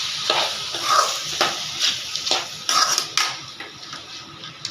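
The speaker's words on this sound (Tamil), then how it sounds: "நல்லா வதங்குது பாருங்க." Chicken sizzles and fries in a pan while a utensil stirs and scrapes against the metal in irregular bursts, close by and without speech.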